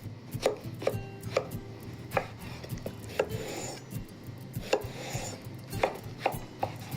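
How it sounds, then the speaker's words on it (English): A knife slices eggplant for eggplant parmigiana stacks, making a run of sharp, close chopping knocks against a board at an uneven, steady pace, with no talk. "let's cut in slices"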